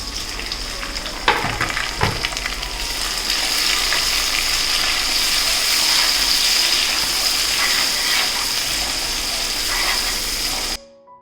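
Chopped medium tomato added to softened onions frying in a pan for rava kichadi, a loud continuous sizzle after a few clanks near the start, holding steady until it cuts off abruptly at the end.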